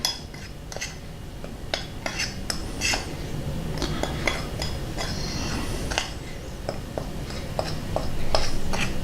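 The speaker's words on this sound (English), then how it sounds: "So we're just mixing in this teaspoon of the Malat Chinese salt and pepper seasoning." Spoon clinking against a bowl while a teaspoon of Chinese salt and pepper seasoning is stirred into flour for coating chicken wings, light scattered taps and scrapes at close range over a low kitchen background.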